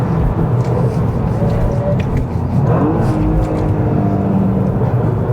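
A 2024 Toyota GR Yaris drives hard, its engine droning loud and close under heavy rumbling road and wind noise, with pitch shifting as it accelerates and shifts gears.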